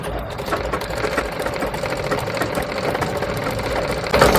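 A sewing machine stitches the hem of an umbrella frock with a rapid, even mechanical whirr and needle tapping, running steadily close up and alone with no speech.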